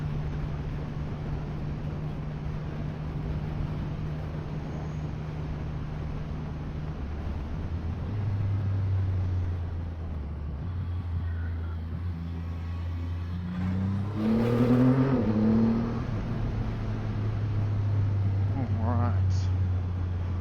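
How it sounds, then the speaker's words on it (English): Triumph Rocket 3 R motorcycle engine on a road ride, a smooth low steady drone with shifting pitch as revs rise and fall, close and continuous under wind noise. "That could be because the engine is just so silky smooth."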